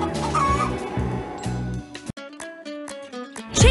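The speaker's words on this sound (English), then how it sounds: "A storm passed over Yumi's farm and startled the chickens." Chickens cluck in a farm field scene from the PAW Patrol Rescue World video game, with several birds clucking at once over a busy, loud game soundtrack, followed by brief game tones.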